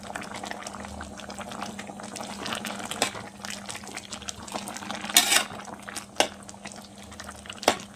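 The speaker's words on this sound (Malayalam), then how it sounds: "ഇനി ഇതിനകത്തേക്ക് കുറച്ച് മുളക് പൊടി ഇട്ടിത്ര പിന്നെ മഞ്ഞൾപ്പൊടി മല്ലിപ്പൊടി ഇത്ര ഇട്ടൊന്ന് മിക്സ് ചെയ്യുന്നത്" Chili, turmeric and coriander powder are stirred into a Kerala-style koottu curry, the pot bubbling softly throughout while a utensil clinks and scrapes against it a few times, close and fairly quiet.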